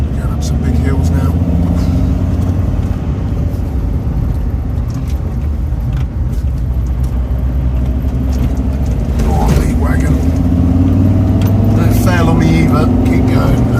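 A car engine labors steadily up big forest hills, a continuous loud drone under wind and road noise, while people talk over it.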